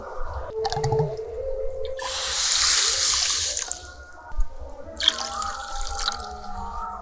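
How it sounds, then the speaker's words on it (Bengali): Water pours in two bright, rushing streams into a bowl of sugar for rasgulla syrup, each lasting a couple of seconds, with drips and soft kitchen clinks around them. "এই বাটি মেপে দু বাটি জল দিয়ে দেবো"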